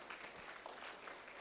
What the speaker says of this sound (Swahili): apigiwe makofi kabisa